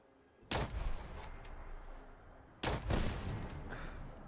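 Plasma sniper rifle shots in the video game Fallout 4, two sharp loud blasts about two seconds apart, each followed by a ringing, fading tail.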